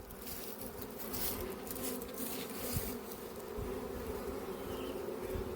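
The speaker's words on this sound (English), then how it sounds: "There's a lot of bees outside there" Many honey bees buzz in a dense, steady drone just outside a hive in an apiary with buttercups, a close swarm-like hum with individual bees passing near.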